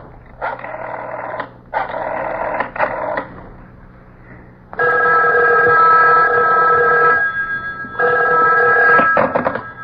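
A telephone rings in a radio drama, giving several loud electric bursts in a repeating pattern with short pauses between rings. One longer ring sounds near the end, and no one speaks.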